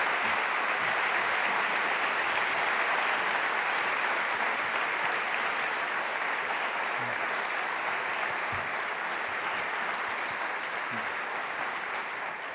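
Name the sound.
applause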